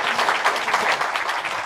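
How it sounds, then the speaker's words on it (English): An audience at a lecture on Arizona search and rescue teams claps for the presenters, dense and sustained applause filling the room at close range with no pauses. "please, everyone, give us a big round of applause for our presenters"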